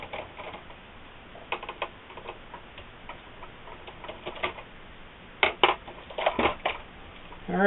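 The back of a Sony PlayStation 3 power supply comes off during a teardown, with faint, scattered clicks and small plastic and metal taps close up, and a few sharper clatters near the end.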